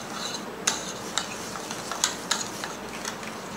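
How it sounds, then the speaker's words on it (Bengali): A spoon stirs beaten eggs with sugar in a bowl, giving a soft wet swishing broken by a few sharp clinks against the bowl's side, close and quiet. "এবার ফেটানো ডিমগুলোর সাথে চিনিটাকে ভালো করে নেড়ে নিব।"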